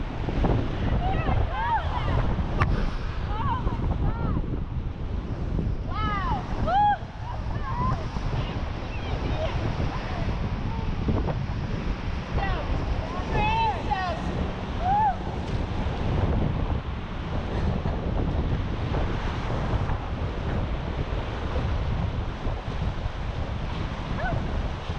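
Big river waves churn and crash around a raft running Cataract Canyon at very high water, a loud continuous roar of rushing water and wind buffeting the microphone, with occasional shouts and voices under the noise.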